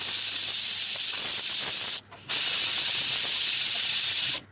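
A pressure cooker on a gas stove, boiling washed potatoes in water, lets out a steady loud steam hiss of its whistle that breaks off briefly and then resumes.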